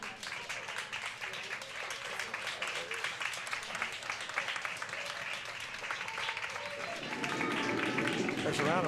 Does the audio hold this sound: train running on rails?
no